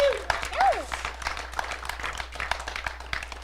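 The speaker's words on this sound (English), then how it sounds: "Big round of applause for Jared Hazen before we get going" An audience claps for Jared Hazen at a Western States Endurance Run pre-race interview event, scattered moderate applause of many hands throughout, with a voice briefly heard near the start.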